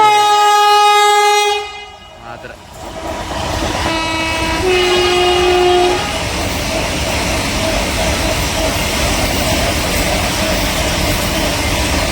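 A passenger express train running from Mysore to Bengaluru sounds a loud sustained horn, then roars past close by with a continuous rumble and rattle of wagons that carries on to the end.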